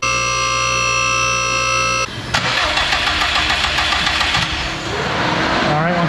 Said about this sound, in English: You ready for the multi-disc chatter?